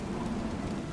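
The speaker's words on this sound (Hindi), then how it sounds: "अचानक से आसमान में काले बादल छा जाते हैं और तेज हवा के साथ बारिश होने लगती है।" Rain arriving with strong wind as dark clouds gather over farm fields, a brief hiss of steady rainfall with a low rumbling undertone, heard alone.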